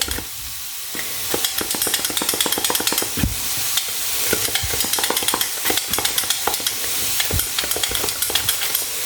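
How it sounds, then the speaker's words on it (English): Celery is sliced on a mandolin in a kitchen, producing a fast, irregular run of crisp snapping cuts and scraping strokes that continues throughout at close range. "I'm using my mandolin, so my hands are well away from the end of the celery"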